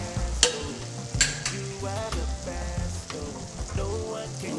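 Puff-puff dough frying in hot oil while being stirred, with a steady bubbling sizzle broken by occasional clinks and scraping knocks of the stirring utensil, close and moderately loud.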